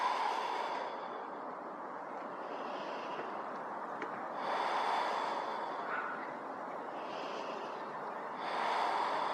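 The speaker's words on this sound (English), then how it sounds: "Just breathing here." Slow, deep breaths during a yoga trapeze flow, each long airy exhale swelling and fading in a calm rhythm, close and clear with no talk.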